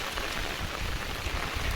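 Rain falls outdoors during village fishing, making a steady, dense hiss of drops on surfaces that stays even and fills the whole moment, with no talking.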